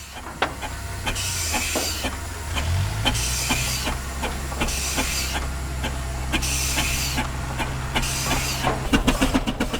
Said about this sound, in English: This is the Avery steam tractor.